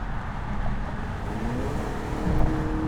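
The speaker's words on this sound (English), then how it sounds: "You can definitely hear the engine more than the 540." Inside a moving 2017 BMW 530e plug-in hybrid, a muffled engine drone rises slightly as it accelerates over steady road and wind noise.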